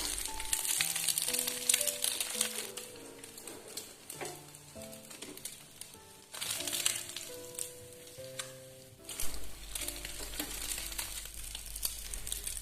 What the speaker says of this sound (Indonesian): Saya bikin telur ceploknya 3 biji aja ya, jadi pas untuk sekali makan buka puasa.